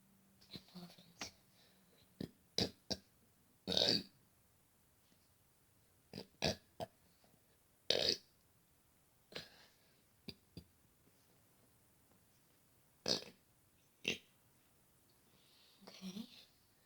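A man lets out a series of short, sharp burps with quiet pauses between them, close and fairly loud against a near-silent background.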